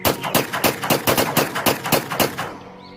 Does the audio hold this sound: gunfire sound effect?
yes